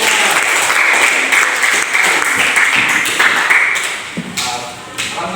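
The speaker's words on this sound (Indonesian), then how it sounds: "Oke, tepuk tangan dulu untuk kelompok 3." Students in a classroom clap for a presenting group, close sustained applause with scattered taps and thumps that thins out toward the end, with some voices underneath.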